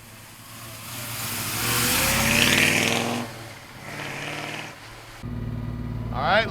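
A 1969 Chevrolet Camaro Z28 V8 engine running as the car drives, a loud steady rumble that swells and eases with throttle, close by, with someone talking over it at times.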